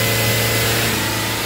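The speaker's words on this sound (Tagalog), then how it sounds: "Tingnan nyo ang tunog ng makina." A car engine idles at low RPM, close and steady, with an even mechanical hum and no revving across the short stretch.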